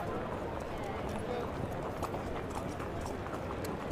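Racehorse hooves clip-clop at a race meeting in a steady, quick rhythm at moderate distance, blending with crowd and background noise while an announcer talks over them.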